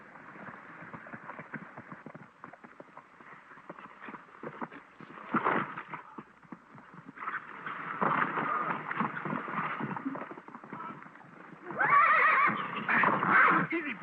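In a 1936 Western film, a horse whinnies and snorts repeatedly, with a loud, shrill neigh near the end, over a rough, noisy background.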